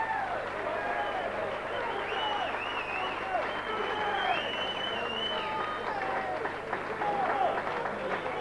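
A boxing hall crowd applauds after a knockout, with sustained clapping and excited murmur running throughout, whistles and shouts rising above the steady roar.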